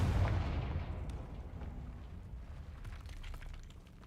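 A Confringo blasting spell goes off in Hogwarts Legacy, a single heavy boom right at the start whose deep rumble decays slowly into a lingering explosive wash with faint crackles.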